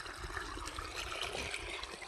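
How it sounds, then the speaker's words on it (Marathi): Weak pump-fed water runs into a bed in a lemon orchard, its flow slowed by low voltage: a steady, gentle trickle and gurgle, fairly close and continuous. "आता आलंय वाफ्यात पाणी"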